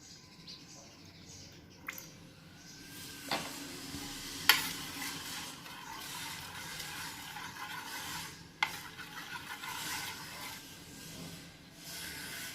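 A spoon stirs colored milk mixed with agar agar powder for a sabudana dessert, making soft scraping and swishing against the pot, with a few sharper clinks, steady and close.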